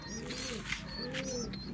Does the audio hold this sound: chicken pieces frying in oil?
no